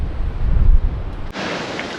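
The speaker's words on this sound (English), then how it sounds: "But yeah, cop the wind up here though." Strong wind buffets the microphone at a coastal lookout near a lighthouse, a loud steady roar with low rumbling gusts that shift abruptly partway through.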